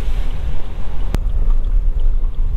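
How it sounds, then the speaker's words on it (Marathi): Strong gusting wind buffets a car on a foggy national highway near Amba Ghat, a loud, steady low roar with one sharp click partway through and no speech. "वाऱ्याचा आवाज नुसता आपटल्याचा येतोय गाडीवर."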